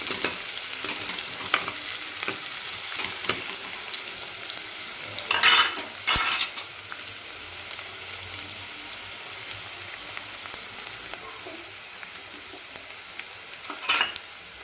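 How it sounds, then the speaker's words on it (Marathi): Onions fry with a steady broadband sizzle in a pan as a spoon stirs them, browning toward golden for a thin brinjal curry; a couple of louder scraping bursts stand out midway, and nobody speaks. "कांदा चांगला आपल्याला सोनेरी कलरवर परतून घ्यायचा आहे"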